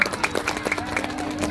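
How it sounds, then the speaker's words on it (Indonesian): An audience at an outdoor village cultural event applauds with scattered, fairly faint clapping that quickly thins out, while a voice carries on over it. "Tepuk tangan Bapak Ibu."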